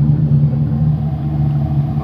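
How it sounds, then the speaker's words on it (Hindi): A Maruti Eeco van idles with the bonnet open during AC service: a steady, loud, close engine hum with low droning tones, constant throughout and with no speech. "ये देखो गाड़ी भी चालू है अभी"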